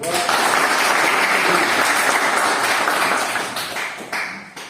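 Students in an army polytechnic classroom give a full, steady round of clapping that tapers slightly toward the end, with faint voices underneath.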